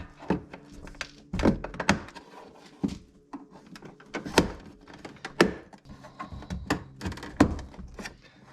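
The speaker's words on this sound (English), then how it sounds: "pop off this trim piece on the inner door handle. This pops up and out, so you want to carefully pry up on each side." A plastic inner door handle trim piece is pried up and out on the rear door of a 2003-2014 Volvo XC90, producing a series of sharp close clicks, snaps and thunks at irregular intervals.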